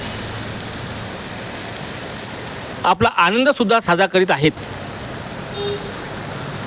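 A sudden unseasonal afternoon rain falls over the city of Amravati as a steady wash of rain noise, and someone speaks over it briefly in the middle.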